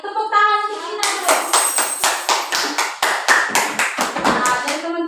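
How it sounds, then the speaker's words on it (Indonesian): A fourth-grade class claps for a classmate in a classroom, the sharp hand claps falling into a quick, rhythmic beat, with a voice speaking just before and children's voices mixed in. "Tepuk tangan untuk Ina dulu."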